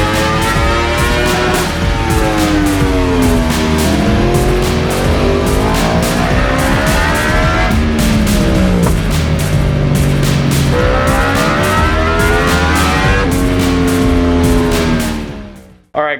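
Loud Yamaha R1M superbike fitted with a full exhaust revs hard on a dyno, repeated rising engine sweeps with rapid gear-like pitch climbs and drops, continuous and close, ending abruptly.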